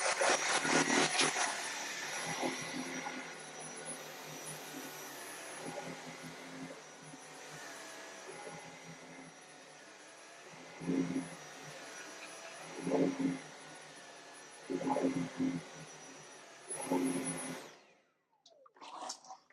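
Dyson V7 Motorhead cordless stick vacuum sucking fine sand off a rug, a loud steady whine with a bright high tone throughout, with several brief surges as the head passes over the sand, then switching off at the end.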